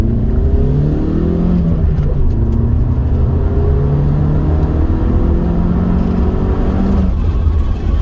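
A Vauxhall Calibra SE4 engine pulls through the gears on a test drive, its note rising in repeated sweeps from inside the car, steady and fairly loud with no voices.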